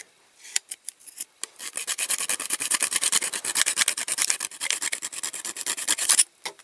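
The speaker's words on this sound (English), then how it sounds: "just file the end of the axle" A metal file rasps against the end of a small Dinky Toys caravan axle, a few tentative strokes followed by a fast, steady run of close, sharp filing strokes.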